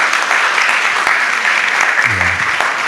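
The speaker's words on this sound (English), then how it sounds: "A round of applause, please." Loud, dense applause from an audience at a panel on Kenya's literary culture, steady clapping throughout with a brief voice heard under it near the end.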